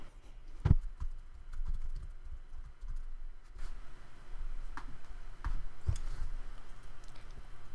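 Computer keyboard typing in a quiet room, sparse soft clicks and a few sharper key taps spread out over several seconds, faint and close.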